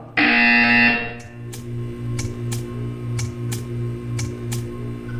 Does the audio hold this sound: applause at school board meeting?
no